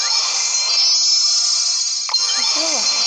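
Opening an epic chest in a mobile game sets off a bright, sustained chiming jingle of layered high tones, followed by quick sweeping whooshes and sparkly effects, loud and without talk.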